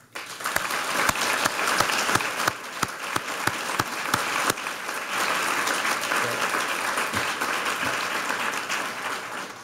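At a law school event, an audience bursts into steady applause, starting with a few distinct claps and swelling into continuous clapping that holds to the end.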